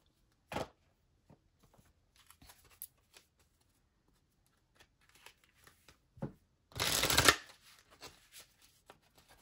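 Oracle cards from the Magic of You deck shuffled for a reading: a brief riffle early, scattered soft card taps and handling, then a louder burst of shuffling near the end, close and quiet with no talk.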